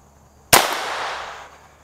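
A single sharp gunshot from an Advantage Arms .22 conversion firing CCI Mini-Mag rounds, loud and close, with a crack that fades over about a second into quiet.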